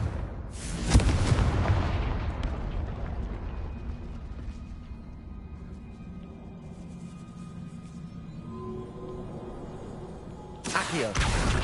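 A heavy Confringo blasting spell in a Hogwarts wizarding video game sets off a loud boom at the start, then a long rumbling decay and mechanical rattles, ending in a second burst of blasts.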